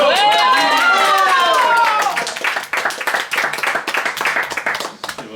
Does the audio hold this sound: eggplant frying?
no